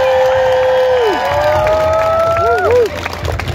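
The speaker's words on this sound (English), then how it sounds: "how many of you, by a proper Halifax cheer and clap, would like the show to start right now?" A street-show crowd at the Halifax Busker Festival cheers and claps loudly, with whoops and shouted voices rising over the clapping before it thins out near the end.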